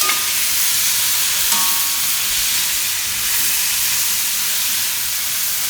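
Tomatoes cooking in a pan for a Gujarati carrot-tomato curry, giving a loud, steady hissing sizzle with faint stirring, no voices.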